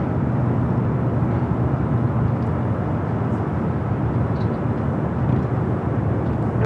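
An EVA Air airliner departing LAX for Taipei, a loud, steady, broadband jet roar that holds without a break, close and filling the whole stretch, with no voices.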